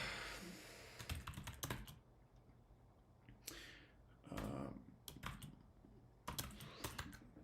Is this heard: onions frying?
no